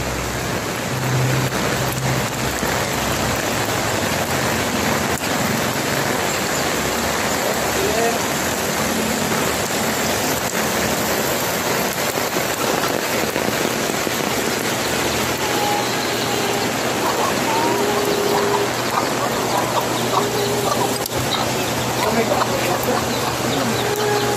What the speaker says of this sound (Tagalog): yung panahon, ulan